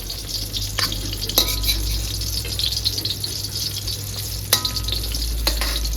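Nalleru (veld grape stems) and tomato fry in a pan in a village kitchen, giving a continuous hiss and sizzle with a low steady hum beneath it and a few sharp clinks of a utensil against the pan. No one speaks.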